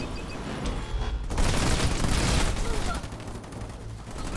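Dense gunfire and explosions from the Halo Wars 2 campaign on Legendary difficulty, with Marines under attack by enemy Spartans; a loud, continuous fusillade with booms swells in the middle, with game voice lines mixed in.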